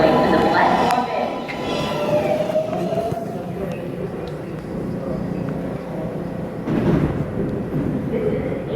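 A New York City subway train, an 8000-series L train, rumbles steadily in an underground station, with a brief surge of noise partway through and voices murmuring beneath.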